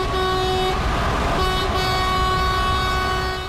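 Car horn sounding during a public applause gesture of thanks, a loud honk that breaks off briefly and resumes, set against a dense wash of street and crowd noise.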